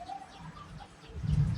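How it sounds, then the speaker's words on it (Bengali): A pair of pet birds kept alongside backyard chickens give soft cooing calls, a few brief faint notes over light background noise, followed by a low rumble. "এখানে আছে পাখি দুইটা"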